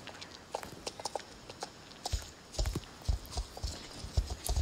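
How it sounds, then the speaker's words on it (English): Horse hooves clip-clop at a walk in the Star Stable Online video game, a Danish Warmblood moving in a fairly steady rhythm of soft, moderately close steps, with faint background noise and no talking. "I'm gonna ride it now. I literally just bought a horse."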